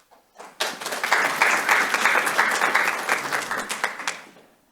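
An audience at a university briefing and panel breaks into applause that swells quickly, holds as dense, full clapping for several seconds, then tapers off.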